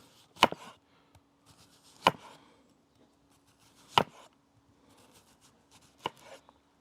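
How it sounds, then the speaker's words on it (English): A knife slices a red onion into thin rings on a cutting board, four sharp, crisp chops spaced about two seconds apart, close and distinct with quiet pauses between. "I'm making onion rings"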